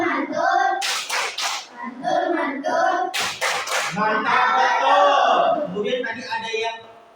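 A class of schoolchildren plays a rhythmic clapping game. Short bursts of group claps in quick patterns alternate with a spoken chant and a teacher's voice.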